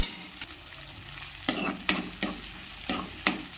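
Chili paste chutney with curry leaves fries in a pan over low gas, a soft steady sizzle broken by several sharp scraping stirs of a spoon against the pan.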